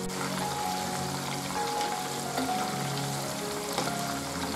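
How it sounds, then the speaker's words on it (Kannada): Crispy prawn kababs fry in hot oil with a steady, close sizzle and crackle, with no talking. "ಬೇಗ ಫ್ರೈ ಆಗ್ಬಿಡುತ್ತೆ ಇದು."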